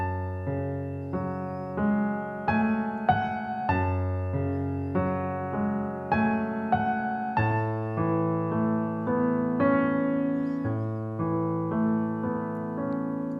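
Piano playing the right-hand part of Ludovico Einaudi's Burning over sustained left-hand chords, a steady series of clear, gently struck notes in a moderate rhythm, close and alone with no talking.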